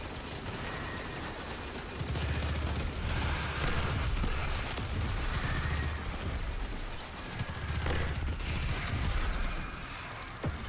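Recluse submachine gun in Destiny 2 firing in sustained rapid bursts amid dense game battle noise, with booming low impacts swelling and fading in waves.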